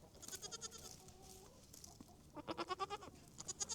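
A goat bleats faintly in quavering, vibrato calls, several in sequence, over soft farmyard background noise.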